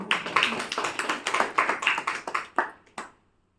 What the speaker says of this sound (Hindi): ताली बजा लो अपने नाम की।